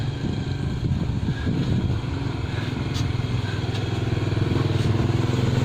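A motorcycle engine idling and revving nearby, a steady throaty drone with some clattering, no voices.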